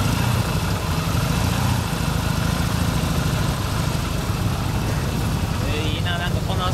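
A 1978 Yamaha TX650 engine, rigidly mounted to the frame, idles with a steady low, lumpy throb, close by, continuing evenly throughout.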